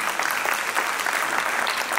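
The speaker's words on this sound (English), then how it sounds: "A big applause from them." Hall audience at a 79th Independence Day celebration at Baba Saheb Ambedkar Medical College and Hospital bursts into sustained, fairly loud applause, thick continuous clapping with no talking over it.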